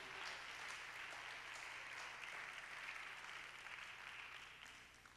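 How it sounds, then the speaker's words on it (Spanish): A church congregation claps in a sustained, dense wave of applause that gradually fades toward the end, with no voices over it. "Dale un aplauso a Dios"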